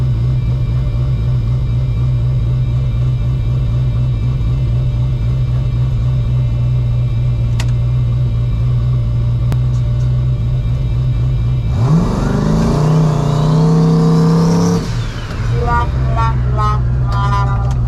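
A boosted street car running about 24 to 25 pounds of boost idles with a loud, pulsing rumble, then revs hard into a burnout with rising, roaring engine pitch before easing back.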